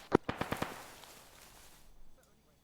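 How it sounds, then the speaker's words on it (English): A quick burst of four or five sharp gunshots in the video game Arma 3, then a fading tail and a faint sound at the end. "Starbolt, we're hearing contacts west, gunshots"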